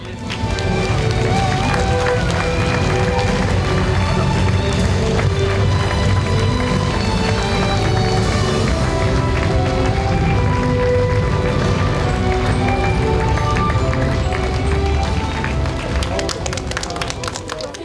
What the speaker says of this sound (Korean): 여러분들의 뜨거운 박수와 환호로 시작하겠습니다